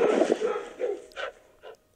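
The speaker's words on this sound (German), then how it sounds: "dass wir andauernd von unseren eigenen Hunden zerfleischt werden?" Dogs barking in a German-language video game about the king's hounds, several short bark bursts in quick succession that fade toward the end, with no talk over them.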